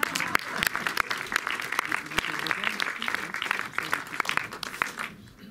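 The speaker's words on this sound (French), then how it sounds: "Regardez, applaudissez-le, il adore ça." Audience at a film screening applauds the producer, sustained crisp clapping with sharp individual claps standing out, fading near the end, with voices faintly present.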